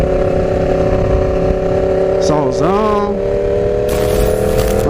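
Yamaha R1 motorcycle engine, a steady near drone with one quick rev that rises and falls, while someone speaks briefly over it.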